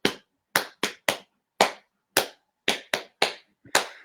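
Hands slapping on a lap in a quick, patterned rhythm, around ten dull smacks in short clusters, close and with no other sound, played as part of a family drumming game.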